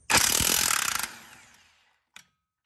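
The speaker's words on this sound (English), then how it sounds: "I fortunately can use my impact," Impact wrench removing brake caliper bolts on a C7 Corvette Z51, delivering a loud, close hammering rattle for about a second that quickly winds down and decays, followed by a short second burst.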